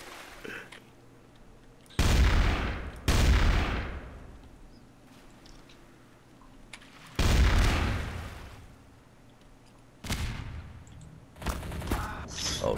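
Gunfire in the game Garry's Mod, Trouble in Terrorist Town, played outdoors: four loud bursts of shots at about two-second intervals, each with a short decaying tail, over a faint background hum.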